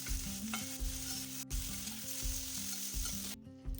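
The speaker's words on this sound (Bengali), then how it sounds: "খুব ভালোভাবে পেঁয়াজটা এবার ভেজে নেবো" Onions with turmeric sizzle steadily in a hot pan, a continuous close frying hiss with faint stirring scrapes and a steady background hum.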